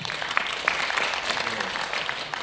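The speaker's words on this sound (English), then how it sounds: "Can we get a round of applause?" Applause from a church congregation during announcements at a Christmas play, a steady dense patter of many hands at moderate level, fairly distant and even throughout.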